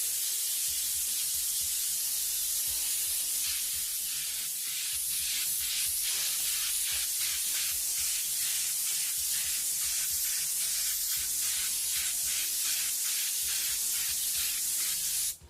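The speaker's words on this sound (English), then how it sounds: "Now I'm good 10 to 12 inches away, so I get a nice dusting, a wide spray, no streaks or anything." An airbrush sprays a light coat of transparent yellow sun gold paint from 10 to 12 inches away, a steady close hiss with rapid pulsing bursts running continuously for fifteen seconds.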